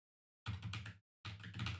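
Typing on a computer keyboard: two brief bursts of rapid, close key clatter separated by a short silence, with no voices.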